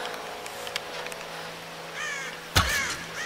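A crow in the Tomb Raider game caws a couple of times over a quiet ambient hum, faint at first, then a sharp close impact near the end.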